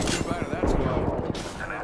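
Dense, rapid gunfire from the video game Apex Legends crackles in a sustained burst of overlapping shots, loud and close, with the action continuing throughout.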